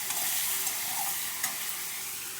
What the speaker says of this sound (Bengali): টমেটো দিয়ে আর একটু ভেজে নিচ্ছি।